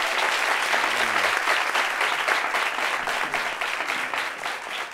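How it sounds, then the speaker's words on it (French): A television studio audience claps continuously at full strength, a dense wash of applause with a faint voice briefly under it. "Applaudissements pour vous-même."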